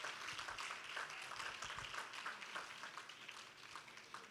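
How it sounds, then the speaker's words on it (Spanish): A church congregation gives warm applause to a new young person attending the class, a steady round of clapping, moderately quiet and even, holding for a little over four seconds. "Vamos a dar un fuerte aplauso a ese jovencito que está con nosotros."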